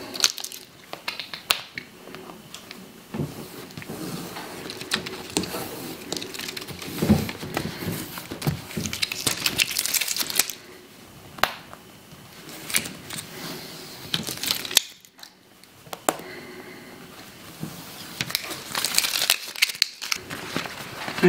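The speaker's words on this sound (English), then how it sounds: "And then you can peel off the protective sheet." A protective sheet is peeled off heat transfer vinyl, giving close crinkling, crackling plastic noises in irregular bursts with brief quiet gaps, nearby and moderately loud, without any talking.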